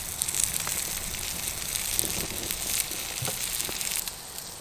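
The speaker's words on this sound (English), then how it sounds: "Hear that sizzle." Steady, close sizzling of a pork chop searing on a hot rock, with scattered crackles and pops and no talking.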